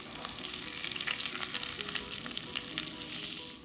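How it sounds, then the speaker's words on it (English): Hasselback potatoes sizzle and crackle steadily in a hot pan of fat while being basted, a dense continuous frying hiss with small pops, close and alone. "Now we're gonna master baste these potatoes."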